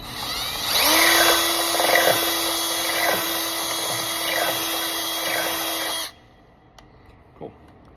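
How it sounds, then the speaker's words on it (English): A power drill run in reverse whines steadily at close range through metal for about six seconds, a sustained high-pitched motor tone with grinding bite, then cuts off, leaving near silence and a faint tap. "if you run your drill in reverse, it will help keep the burrs off the edge"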